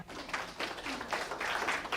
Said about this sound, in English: let's give yourself a round of applause for that